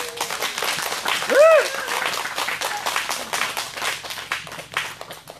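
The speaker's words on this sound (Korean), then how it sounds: "다시 한번 뜨거운 박수 부탁드리겠습니다" An audience applauds at a Korean stage event, a dense patter of clapping heard under someone talking loudly over it throughout.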